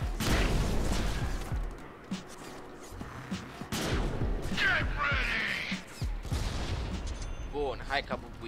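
Repeated loud booming shotgun blasts from the video game Deadpool, several blasts with sharp impacts and crashing debris, with a voice talking over parts of it.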